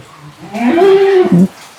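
A goat at a farm for male goats gives a single loud, close bleat lasting about a second. The call rises and then breaks off at the end, over quiet background.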